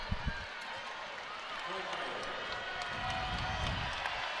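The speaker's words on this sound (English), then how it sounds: "Crowd getting loud here." At a women's college volleyball championship match between Iowa and Minnesota, a dense arena crowd roars steadily and swells louder, with a few sharp claps near the start and a commentator talking over it.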